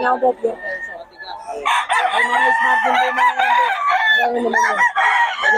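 Several gamefowl roosters, pure Kelso birds at a farm in Bocaue, crow loudly and repeatedly, their calls overlapping with clucking; quieter at first, then a dense continuous chorus of crowing near and far.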